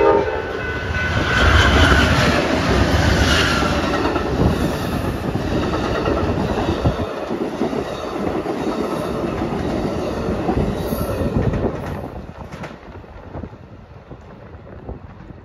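An Amtrak Southwest Chief passenger train passing on the BNSF line west of Chicago, a loud, close rumble of rolling cars with wind buffeting the microphone, fading slightly toward the end.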